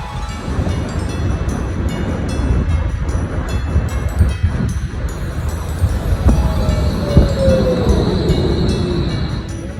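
A Vienna tram rumbles in and slows with a rising squeal of wheels on rails, over a steady wind-buffeted outdoor roar; no one speaks.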